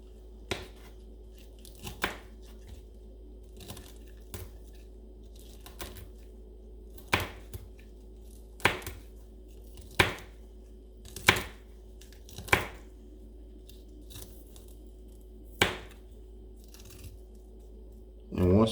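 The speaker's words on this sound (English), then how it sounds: "I'm gonna chop it because I want some fine cuts to put on my tacos" A knife chops folded leafy greens at an angle for tacos, producing a series of sharp, close cutting knocks on a board at uneven intervals, with quiet room hum between strokes.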